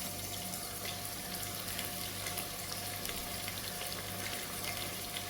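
Onions sautéing in a pan for egg biryani: a faint, continuous hiss of frying, even and unbroken, with no talking.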